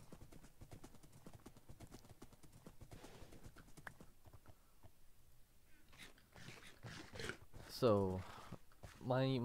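Horses gallop in a modded Lord of the Rings video game, their rapid clip-clop hoofbeats running steadily through most of the stretch, then tapering off as someone speaks over the end.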